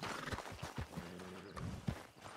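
Hooves of a Tennessee Walker horse in the video game Red Dead Redemption 2. Soft, fairly quiet clip-clop steps fall in an irregular walking rhythm, with no talk over them.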